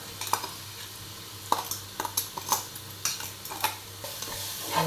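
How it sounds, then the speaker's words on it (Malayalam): Crushed ginger, garlic and green chili fry in sunflower oil for a Thalassery chicken dum biryani, a steady low sizzle broken by repeated spatula scrapes and taps against the pan. "ഇനി നേരത്തെ ചതച്ച് വെച്ച ഇഞ്ചി, വെളുത്തുള്ളി, പച്ചമുളക് ഇതിൽ ചേർത്ത് കൊടുക്കാം."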